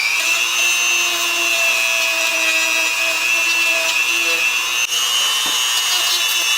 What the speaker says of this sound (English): I'm going to take my Dremel tool and I'm going to sand this thing